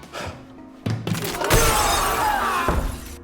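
Glass tiles shatter on the glass bridge game from Squid Game: a short crack, then a loud, sustained crash of breaking glass with thuds, close and dominant.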